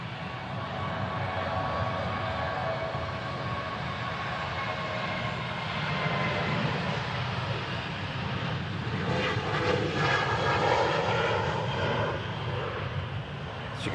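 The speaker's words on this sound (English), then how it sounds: "There's an aircraft rolling down the runway. It looks like a Boeing 737 of Ryanair" A Ryanair Boeing 737 rolling down the runway on its takeoff run at Manchester Airport, a steady broad jet engine roar with whining tones building toward the end, heard from a distance.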